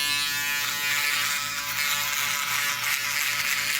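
Electric shaver or clippers buzz steadily and loudly up close during a fade haircut, a constant whirring hum with slight wavering as the blade moves through the hair, no voices.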